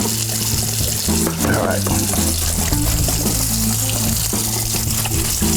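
Tap water runs steadily into a sink while starch is rinsed out of food, a loud continuous gushing under a man's brief speech.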